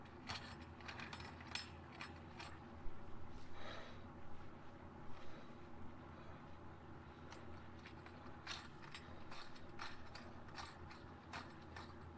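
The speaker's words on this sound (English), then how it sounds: "So I'll just stop for now and screw this in." Part being screwed in during a repair, with a run of ratcheting clicks and small mechanical ticks at an irregular pace, plus a few breathy sounds, close-up over a low steady hum.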